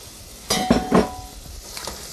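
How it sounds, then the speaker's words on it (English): Diced onions drop into a pan of melted butter, giving a couple of loud clattering thuds followed by a faint, quiet sizzle. "I'm going to put this in the pan with the butter and let it saute"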